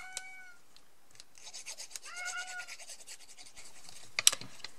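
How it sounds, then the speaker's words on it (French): A pet cat gives two short, faint meows in a quiet indoor room, separated by a pause, with soft rubbing and scratching of paper in between and a brief rustle near the end. "mon chat faisait un appel"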